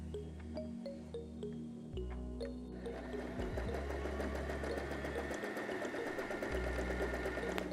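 A budget sewing machine sews a standard straight stitch with a denim needle through two layers of soft denim, giving a steady mechanical whir with rapid needle clatter that speeds up partway and keeps running without speech.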